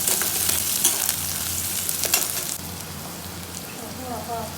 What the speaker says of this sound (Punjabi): ਪਿਆਜ਼ ਪਾ ਆ ਪਿਆਜ਼ ਵੀ ਲਾਲ ਕਰਨਾ ਹਾਂ